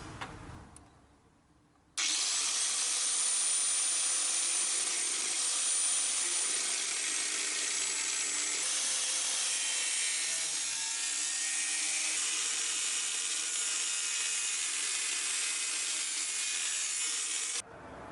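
A power cutting tool slices out rusted metal on a Classic Mini, a sustained loud harsh whine that starts abruptly, holds steady with slight pitch wavering, then cuts off.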